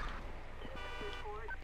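A car horn in the video game GTA V gives a short toot, a single brief beep with other game sounds and voice-like sound around it.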